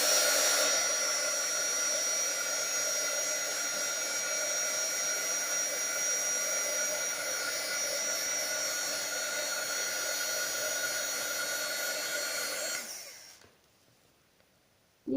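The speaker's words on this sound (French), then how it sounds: "Et vous allez faire chauffer avec votre gun." A heat gun runs loud and continuous for about thirteen seconds as it heats embossing powder on a handmade card, with a steady blowing whine, then it cuts off into near silence.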